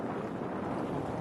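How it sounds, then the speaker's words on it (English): Steady wind rushing over the choppy open water of Shallow Bay, North Carolina, with swells rolling past; a dense, continuous broadband roar buffets the microphone at constant loudness, with no voices. "The wind's blowing."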